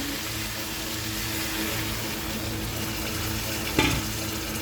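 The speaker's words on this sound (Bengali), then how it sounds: "আমি আড়াইবার নেড়ে দেবো।" Yogurt chicken stirred in a frying pan after meat-washing water is added, a steady close sizzle and bubbling hiss with a brief louder scrape of the spoon near the end.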